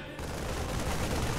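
A StarCraft siege tank fires in a video game battle, a dense, loud burst of blasting artillery that fills the moment without pause, starting abruptly after a brief quiet.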